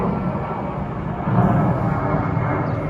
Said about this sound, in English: It's an airplane flying.